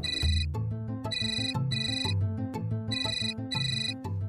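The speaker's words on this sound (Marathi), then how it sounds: "घ्या, सूरजचाच फोन आहे" A mobile phone rings with an incoming call, a loud repeating electronic ringtone melody pulsing in regular bursts close by, with no one talking over it.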